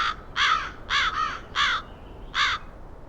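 A game bird near its nest caws four times in a rough, uneven rhythm, loud and close, each call harsh and hoarse over a low background hum.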